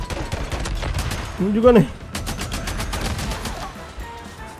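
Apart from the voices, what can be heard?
gunfire in a zombie video game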